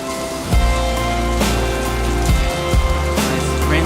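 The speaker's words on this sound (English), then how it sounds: "Rain's coming down in 2 different directions." Steady rain pattering on a surface, with a constant wash of drops and a few heavier thumps, no voices.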